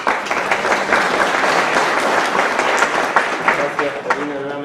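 An audience at an international arbitration and conciliation congress applauds a doctor being introduced, dense steady clapping that tails off as a voice begins speaking near the end.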